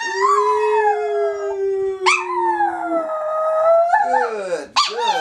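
A dog named Lily howls in long, wavering tones that rise and fall, holding each note before sliding into new pitches, loud and close with no talk over it.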